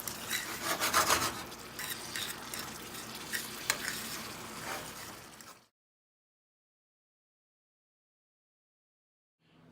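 Sauce simmers and reduces in a pan with a soft, steady sizzle and scraping stir sounds up close, then cuts off abruptly into silence for the last few seconds.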